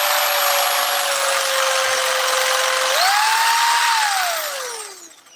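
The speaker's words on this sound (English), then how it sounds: "This shear takes about an 1/8 inch of material away." A variable-speed power metal shear runs steadily and loudly on its own, its motor whine climbing in pitch partway through before winding down and fading out at the end.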